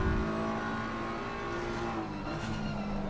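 A GT3 race car engine in the Assetto Corsa Competizione sim at Zolder pulls back onto the throttle out of a corner, a sustained droning rev that holds steady and loud through the whole short stretch.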